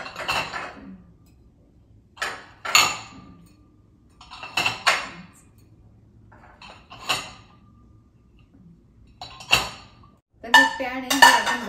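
Metal pans and dishes are set one by one into a dish drying rack: about five separate clanking, rattling bursts spaced by quiet pauses, ending in a longer jumble of clinks.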